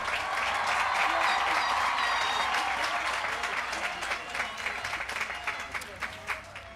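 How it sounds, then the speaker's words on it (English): Sustained audience applause at a high school graduation ceremony for the class of 2023, a dense wash of many hands clapping that stays steady and loud, then thins into scattered claps toward the end. "Can we give them a round of applause?"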